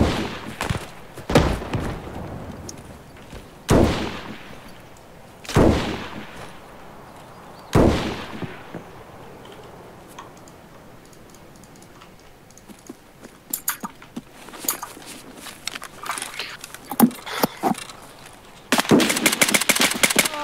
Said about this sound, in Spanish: Fanny, haz ruido, dispara.